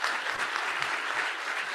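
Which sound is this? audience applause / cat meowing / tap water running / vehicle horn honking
audience applause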